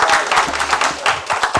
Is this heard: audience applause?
yes